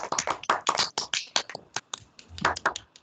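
Presenters clap their hands in a classroom, a run of sharp, close claps that falls into a sparser stretch midway and then picks up again. No one speaks.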